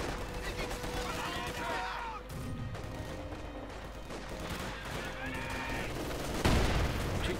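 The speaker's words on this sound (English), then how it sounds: "Heavy machine gun fire, heavy fighting." Heavy machine gun fire and heavy fighting in the video game Company of Heroes 2, a dense, continuous battle din of rapid gunfire and blasts under a commentator's voice throughout.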